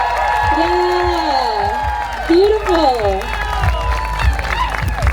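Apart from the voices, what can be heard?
audience applause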